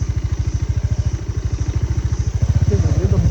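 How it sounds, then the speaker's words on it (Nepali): A motorcycle engine with a rattling gearbox outer cover runs close by in a rapid, steady thumping rhythm that grows slightly louder near the end. "गियरबक्सको बाहिरी कभर हल्लाए जस्तो छ"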